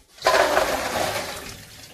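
A short burst of running water gushes and splashes over beans being rinsed, starting abruptly and tapering off over a couple of seconds, close and fairly loud.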